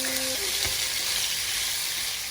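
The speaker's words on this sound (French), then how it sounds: "et je les sépare bien avec les baguettes pour les faire revenir avec les légumes" Udon noodles being separated with chopsticks hiss loudly in a hot wok with vegetables, a steady close sizzle with a brief clink of utensils near the start.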